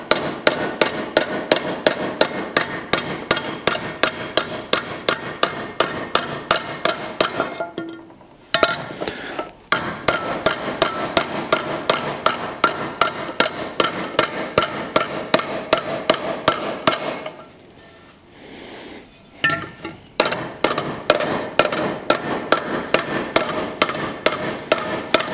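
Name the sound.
hammering exhaust manifold metal, Jaguar Mk2 build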